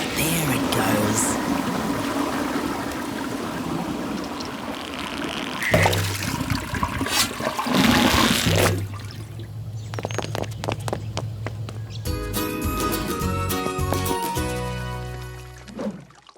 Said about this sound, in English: Come on, flush, come on.